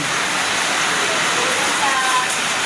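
Heavy rain pours down in a dense, steady roar that fills the whole stretch without a break.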